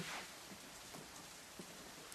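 Rain begins in the visual novel game Katawa Shoujo as a quiet, steady hiss of falling drops with a few faint soft patters, and no talking.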